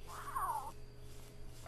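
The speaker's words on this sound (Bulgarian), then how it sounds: "Спри да издаваш звуци, бе, коте." A single short cat meow from a video game rises clearly over a faint steady background hum, then fades into quiet.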